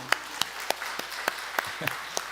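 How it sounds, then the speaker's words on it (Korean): A church congregation gives a brief, faint round of applause: sparse, separate claps at a steady pace, heard from a distance in a quiet hall. "박수 한번 하겠습니다"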